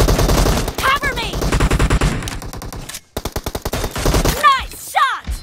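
Rapid automatic gunfire from PUBG Mobile hammers in dense bursts, loud and close, broken by a brief silent gap and then more rattling volleys, with short chirping game sounds layered on top.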